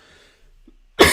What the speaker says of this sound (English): Sorry, I got a bit of a cough.